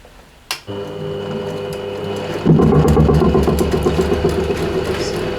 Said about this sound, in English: You can hear the individual bounces of the ruler on the table.